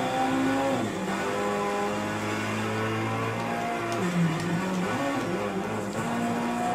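A car engine in a PS3 driving simulator game accelerates with a steady, moderately loud drone whose pitch climbs and dips as the revs change, with no talking.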